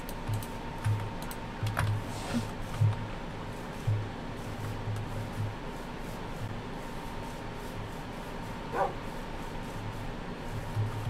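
A video game dog barks in short, sparse bursts over steady low background noise and continuous computer keyboard typing.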